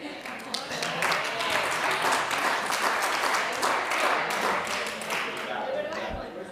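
Applause fills a regional parliament chamber during a plenary session of the Cortes de Aragón, a dense, steady clatter of many hands lasting several seconds, with some voices mixed in.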